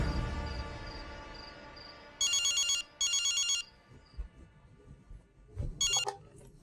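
A telephone rings with an incoming call in a domestic drama scene, loud trilling bursts in a repeating pattern over a faint background tone, with a gap before a later burst.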